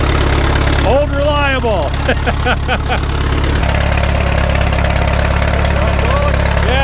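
An Allis-Chalmers M dozer engine idles steadily with a low, continuous rumble throughout, while someone talks over it.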